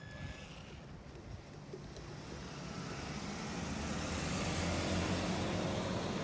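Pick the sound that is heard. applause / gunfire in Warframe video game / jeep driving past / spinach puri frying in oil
jeep driving past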